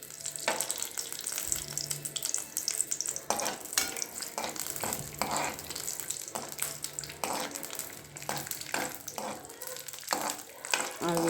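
Two spoons of ghee with cashews sizzle in a pan while making kesari barfi, a soft steady frying hiss with intermittent scraping and stirring clatter, fairly quiet and close.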